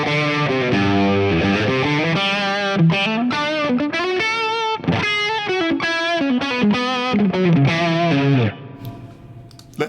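An electric guitar plays through a Bassman amp with the bright switch on, crunch distortion, a boost and a little reverb, sounding as loud, driven chords and sustained notes in a rhythmic phrase that fades into a brief reverb tail.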